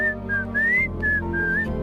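A person whistles a short tune of sustained, sliding notes in a few phrases, close and clear over a low steady background hum, with no talking.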